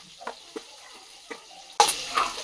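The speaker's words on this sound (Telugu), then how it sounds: "చూడండి మా హస్బెండ్ చికెన్ కర్రీ వండుతున్నాడు." Chicken curry cooking in a pan, a few soft stirring scrapes at first, then a sudden burst of loud sizzling and frying that carries on, close and continuous.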